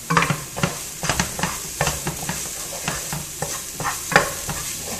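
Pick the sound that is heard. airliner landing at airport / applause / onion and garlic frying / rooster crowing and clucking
onion and garlic frying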